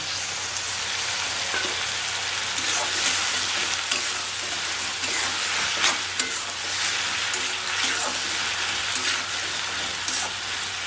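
Steady crackling sizzle of ginger garlic paste frying in a hot pan for chole, with occasional stirring scrapes, continuous and fairly close, no voices.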